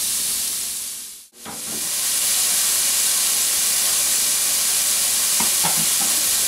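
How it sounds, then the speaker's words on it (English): Slices of hot Italian sausage browning in a pan, a steady loud hissing sizzle that dips briefly near the start then swells back, with a few soft clicks of stirring later and no speech. "So just get them into your pan here, and just cook these till they're nice and crispy and brown"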